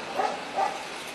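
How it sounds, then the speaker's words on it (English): Dogs outdoors near a sidewalk bark twice, faintly and in quick succession, over a steady background hiss. "The dogs start barking at me."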